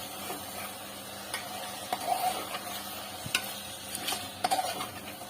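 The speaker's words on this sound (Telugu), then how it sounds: "ఇప్పుడు 1 table spoon chicken masala powder, 1/2 cup పెరుగు వేసుకుని కలుపుకోవాలి" Chicken being stirred with chicken masala powder and yogurt in a pot: soft wet sizzling under scattered clicks and scrapes of a spoon against the metal, quiet and close.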